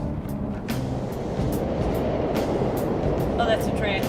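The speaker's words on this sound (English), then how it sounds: "Oh, that's a train." A subway train rumbling past in Persona 5 Royal, a steady low roar that swells and holds throughout, with a faint higher rattle near the end and a voice talking over it.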